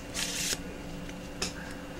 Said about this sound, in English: It is hard to shuffle nicely with this little amount of cards,